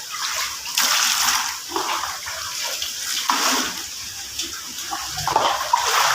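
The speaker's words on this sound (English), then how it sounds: "see here outside it's still raining" Heavy rain pours outside during a Chennai downpour, a dense continuous hiss of falling water with louder gushing surges and splashes throughout.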